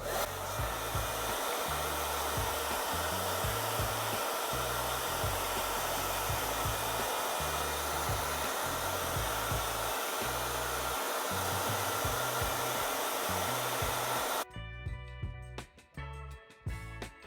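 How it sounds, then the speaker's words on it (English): A hair dryer on low heat runs continuously, drying a turkey fan, with a steady airy roar and an uneven low rumble beneath, then cuts off abruptly near the end, leaving faint clattering. "just jump on it with a hairdryer, low heat, or a shop vac"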